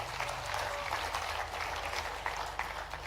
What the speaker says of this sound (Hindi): एक बार जोरदार ताली बजा करके